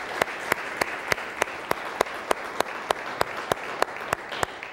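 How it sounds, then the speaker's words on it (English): A church congregation applauds during a Sunday liturgical service, with a dense, even wash of clapping and some sharper individual claps standing out at a steady, rhythmic pace. "Let's give our people of African descent a huge round of applause this morning."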